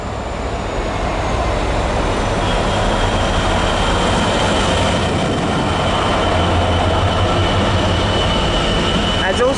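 A Class 66 freight locomotive thunders through Southampton Central station on a green signal, a loud, continuous roar of engine and rolling wagons with faint wheel squeal, sustained close throughout.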